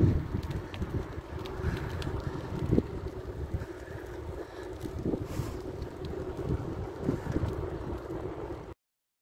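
Steady wind gusting and buffeting across Napoléon beach, with a low rumble throughout and brief louder bursts.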